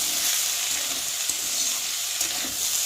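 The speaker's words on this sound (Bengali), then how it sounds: "আমি এখন আলুটাকে একটু মেরে দেবো যাতে তলায় না লাগে" Potatoes frying in hot oil in a pan, stirred and pressed: a loud, dense, even sizzle close up, with only faint knocks beneath it.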